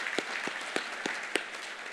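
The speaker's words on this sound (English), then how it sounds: "Let's give him a round of applause as well." Audience applause at a public forum on Korean unification: a continuous wash of clapping from a crowd, with a few louder individual claps standing out at regular intervals, moderately loud.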